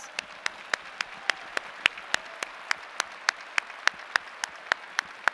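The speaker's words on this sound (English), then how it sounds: "let's give him a long-distance round of applause" Commencement audience applauding a graduate who could not attend in person, in a large hall; steady sharp claps from many hands, with a few louder individual claps standing out over the crowd.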